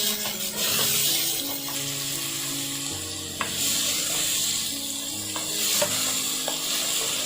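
Chopped green onions fry in a pan for a fish dish, a steady bright sizzle with occasional clicks and scrapes of a spatula, moderately close, no speech.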